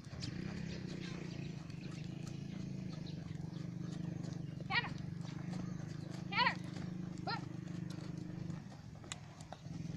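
A horse walks under a rider, its hooves clip-clopping steadily through a continuous low rumble, with a few brief snorts or whinnies and people talking throughout.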